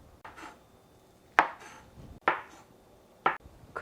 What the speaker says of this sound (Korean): 이제 물에 불렸던 두부를 적당한 사이즈로 잘라 주셔야 되는데요